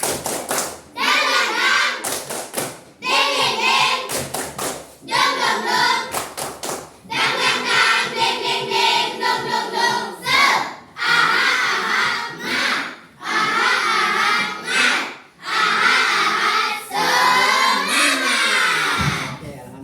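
A class of students does a rhythmic clapping chant together, bursts of group clapping alternating with chanted voices in a steady, loud pattern.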